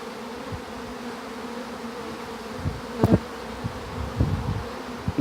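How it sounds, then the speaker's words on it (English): A constant low buzzing hum of a bee swarm seeking a new home, with a few louder passes and soft thumps breaking through the steady drone. "there's so many other bees coming"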